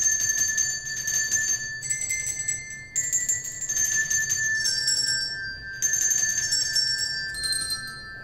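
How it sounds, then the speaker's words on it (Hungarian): Handbells rung by senior club members at a Christmas event, clear bright tones struck in short groups of several notes, pausing briefly between phrases, close and loud with a faint murmur of room noise beneath. "illetve a csengő szó is, ami klubtagjaink előadásában hangzott el"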